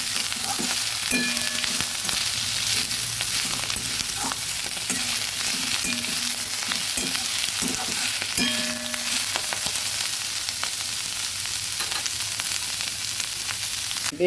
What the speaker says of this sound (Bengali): বারবার করে নেড়ে নেড়ে ভেজে নিচ্ছি